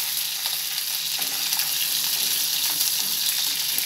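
Cumin and mustard seeds fry in hot oil with a steady, bright crackling sizzle that holds at an even, fairly loud level, with faint pops scattered through it and no talking.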